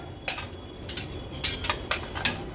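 Metal clinks and scrapes as the lid of a pressure cooker holding dry Agri-Koli style mutton sukka is taken off, a few separate clattering knocks close by with no talk.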